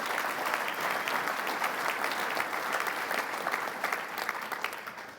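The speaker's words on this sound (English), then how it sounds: "I would like to everybody give them a great big round of applause" An audience at a hall of fame dinner applauds in a steady, dense wash of clapping that eases off slightly near the end.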